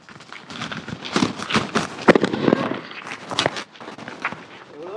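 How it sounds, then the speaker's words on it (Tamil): A 3.5-inch fancy aerial firework from Sivakasi bursts in a series of sharp cracks and crackling pops, loud and close, with irregular bursts spread across the whole stretch. "ஆக்சுவலாக எங்க வேற மாதிரி வெடிச்சு போகுது பார்த்தீங்களா ஃப்ரெண்ட்ஸ்?"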